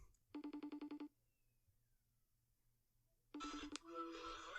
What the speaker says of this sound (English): Let's see if she'll pick up the phone.